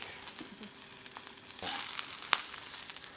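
A5 Japanese ribeye steak sizzling in a hot pan, a steady close crackling fry with occasional sharper pops and a brief surge of hissing, alone and moderately quiet.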